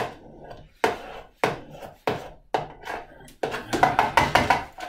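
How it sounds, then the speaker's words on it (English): Knife chopping vanilla pods on a board, a series of sharp close thuds at an uneven pace, quickening into a rapid cluster of chops toward the end. "And I chop up that bit, put it all in, man, maximum flavour."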